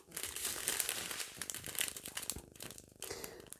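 Plastic foil packaging of diamond painting stones crinkles and crackles continuously, close and fairly loud, with dense irregular rustling throughout.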